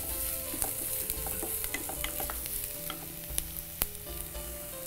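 Tomatoes and onions sauté in a pan with a soft, continuous sizzle and scattered clicks of stirring, fairly quiet and steady, with no voices.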